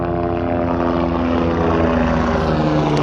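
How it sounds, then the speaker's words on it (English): Helicopters flying by overhead outdoors, a steady loud rotor and engine drone with a constant throbbing hum that holds throughout without any talk. "Oh, we got some nice helicopters rolling by."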